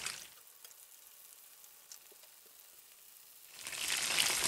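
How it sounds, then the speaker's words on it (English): Fish fries in hot oil in a home kitchen, a soft steady sizzle with faint crackles that swells into a louder, brighter hiss near the end. "So while our fish is frying"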